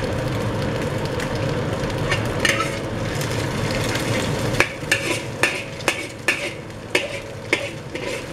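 Vermicelli noodles frying and being stirred in a pan over high heat, a steady broad sizzle with sharp repeated scraping knocks of a utensil toward the end, close and fairly loud.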